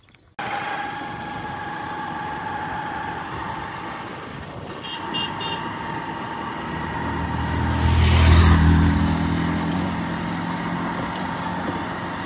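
A diesel tractor engine idles with a steady low rumble, swelling louder as it revs up briefly, then settling back to its chugging drone.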